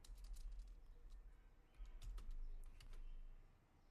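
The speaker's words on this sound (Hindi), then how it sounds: "तो मैं सिलेक्ट करके यहाँ पे हेड लाइन टाइप करूँगा" Computer keyboard typing a headline during graphic design work, a quiet run of soft key clicks in uneven bursts over a low background hum, no voice.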